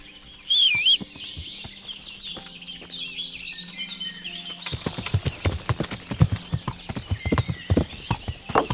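Horse hooves clip-clop at a steady riding pace in Kingdom Come: Deliverance, growing louder and denser partway through, with birdsong chirping above.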